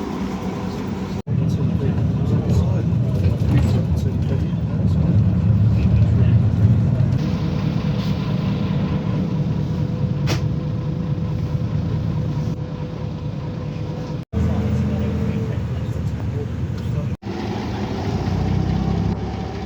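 An old 308 bus in Hertfordshire rumbles along with a steady low engine drone from onboard, broken by brief cuts, while someone talks over it.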